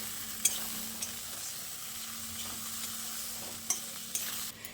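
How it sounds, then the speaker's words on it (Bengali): Eggplant pieces are stirred through spices in a frying pan, a quiet low sizzle with a few sharp spatula scrapes and clinks against the metal, faint and close. "এবার বেগুনগুলোকে দিয়ে মশলার সঙ্গে খুব ভালো করে নেড়ে চেড়ে মিশিয়ে নিচ্ছি।"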